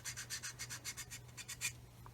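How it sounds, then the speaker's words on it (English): Quick back-and-forth rasping strokes of a sanding stick on a small plastic model kit part, about a dozen rhythmic scrapes, close and quiet, then stopping. "I'm going to get a sanding stick and just remove some of the material from here"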